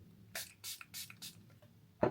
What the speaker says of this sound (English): I'm gonna spray this with the Wow stuff.